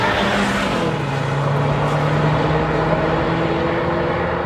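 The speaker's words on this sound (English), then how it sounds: "Buckle up and let's go for a drive." A 2023 Volvo V90 Cross Country wagon setting off on a drive, its engine humming steadily with a note that dips and settles, loud and close from inside the car, without talking.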